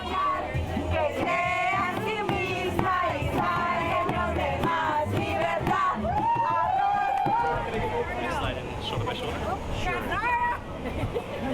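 A crowd at a voting rally cheers and yells in a dense, sustained roar of many voices, loud and close, with individual shouts rising above the babble.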